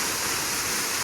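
A small waterfall beside the stone steps up to Raigad fort rushes in a steady, broad hiss of falling water, close and continuous, cutting off abruptly at the end.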